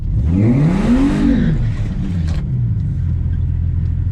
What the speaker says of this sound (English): Now we're gonna do a little burnout, just to get them a little bit hot.